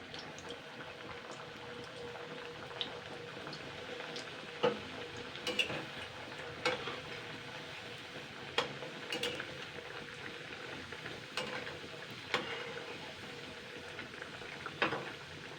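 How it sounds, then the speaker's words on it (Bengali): Khaja pastries deep frying in a kadai of hot oil, a steady soft bubbling sizzle with scattered sharp crackles and pops throughout, no voices. "এইভাবে আমি কিন্তু লাল লাল করে সব ভেজে নেব।"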